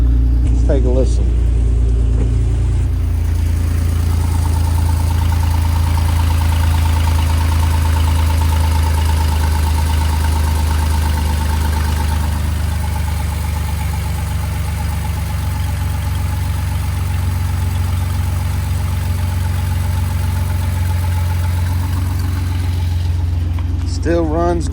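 A Jeep Rubicon with about 196,000 miles and check engine, ABS and traction control lights on idles steadily up close, a low even rumble with a faint whine, after a short burst of talk at the start.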